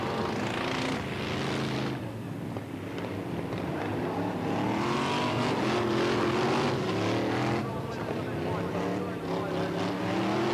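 F1 and F2 stock cars race around the Skegness Stadium oval in 1985, engines droning and revving continuously throughout, with a race commentator talking over the steady motor noise.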